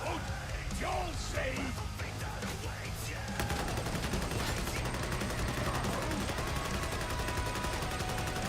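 Automatic gunfire from a video game weapon rattles in dense, rapid bursts at point blank range, loud and continuous, turning into a sustained barrage in the second half.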